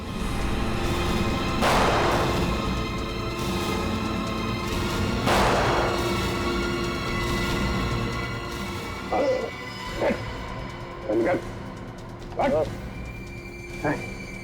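Two loud gunshots boom a few seconds apart in a Hindi TV crime drama scene, followed by several shorter sharp bursts, with a dog barking and some voices around them.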